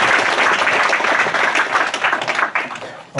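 Audience applause at an exhibition opening welcoming a guest, a brief burst of many hands clapping that fades out after a few seconds.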